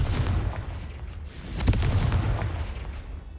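A Confringo fire curse bursts in Hogwarts Legacy, one sharp blast mid-clip over a steady rumbling game backdrop, loud and close with no talk.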